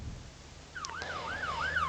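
French ambulance siren wailing in a police game, a rising and falling electronic tone that starts partway in and grows louder as it approaches, with engine rumble beneath.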